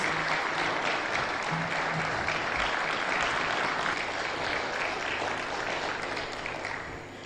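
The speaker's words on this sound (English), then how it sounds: "Shall we give her another round of applause?" A conference audience applauds the First Lady of Congo at an international strategic dialogue on NCDs and SDGs, steady dense clapping that fills the room and fades slightly toward the end.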